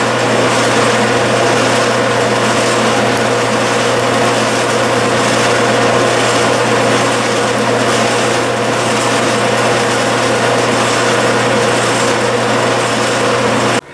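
A lathe drilling Delrin held in a three-jaw chuck with an X drill, a steady loud high-pitched whine with a constant motor hum underneath, unbroken throughout and no talking.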